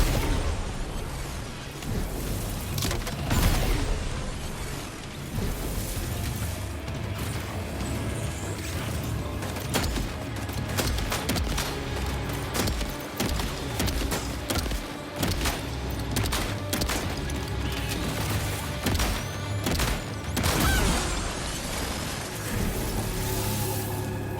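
Grenade blasts and gunfire against mechanical hostiles in Death Stranding 2 keep up a dense, continuous racket of sharp cracks and booms for the whole stretch, loud and close with mechanical clatter.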